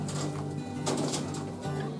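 Domestic pigeons cooing in a loft, low repeated throaty coos close by, steady against a faint background hum.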